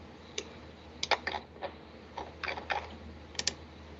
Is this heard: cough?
no